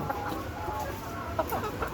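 A layer hen that has suffered heat stroke clucks softly and repeatedly close by, low throaty sounds over a steady background hum.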